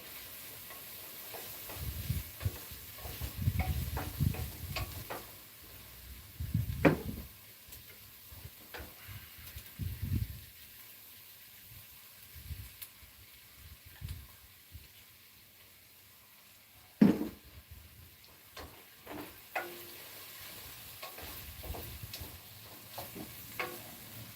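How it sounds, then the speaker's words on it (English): Onions sweating in a hot pan for chilli mussels, with a low steady sizzle under intermittent spoon scrapes and stirring clatter, close by, one sharper knock partway through. "Sweat, make the onions soft."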